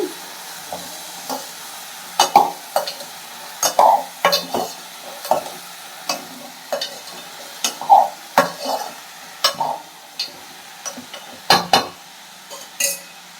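Yellow pumpkin poriyal being stirred in a pan, with repeated close scrapes and clinks of a spoon on metal in an uneven rhythm over a faint sizzle, and nobody talking.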